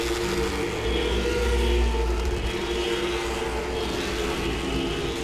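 Late model race cars circle Langley Speedway, their engines a loud, continuous roar with a steady low drone that swells slightly early on, with no voices.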